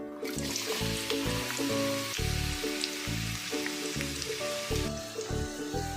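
Three sliced onions frying in hot coconut oil for a Kerala-style kappa biriyani, giving a steady crackling sizzle throughout beneath louder background music with a regular beat.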